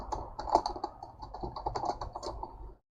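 Quiet bursts of keystrokes on a computer keyboard, uneven rapid clicking for about three seconds before stopping, close and alone with no voices.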